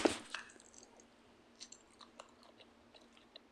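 Soft, wet chewing of a juicy blue raspberry Swedish gummy candy, starting with a sharp squishy bite and followed by scattered quiet smacks and squelches, close and intimate with no talking.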